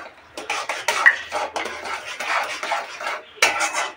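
A spoon stirs Kashmiri chili powder, turmeric and salt in a pan while cooking paneer butter masala, giving close, rhythmic scraping and clattering strokes of metal on metal in short bursts.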